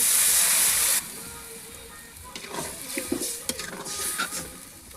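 Sharp loud hiss as a little water hits hot oil in a pan of fried potato and pointed gourd, easing after a second into a softer, uneven sizzle and bubbling with faint clinks.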